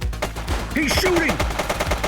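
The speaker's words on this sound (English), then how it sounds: "He's shooting!" Rapid automatic gunfire rattles close and loud in The Precinct, a fast rhythmic burst of repeated shots with a brief shout mixed in partway through.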